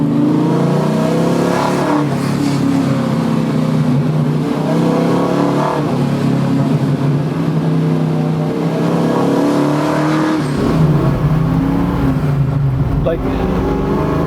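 A 1969 Camaro muscle car's loud engine rumbles and revs steadily throughout, close up, with a deep throaty drone rising and falling.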